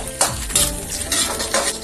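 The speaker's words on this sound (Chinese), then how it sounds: "然后咱们把咸鸭蛋和松花蛋都放入锅里边，再继续保持小火炒制。" Salted duck egg and century egg being stir-fried in a wok over low heat with garlic, giving a steady close sizzle and repeated scraping strokes of a spatula against the metal.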